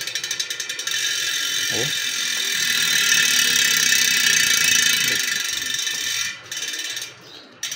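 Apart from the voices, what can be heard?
ratchet-type bicycle hub (Ultra B12) freewheel clicking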